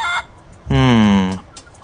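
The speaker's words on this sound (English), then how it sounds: "Plunder Island Feral Chicken." A feral chicken on Plunder Island in the adventure game The Curse of Monkey Island gives a loud, close squawking cluck and crow-like call lasting under a second, framed by brief quieter sounds.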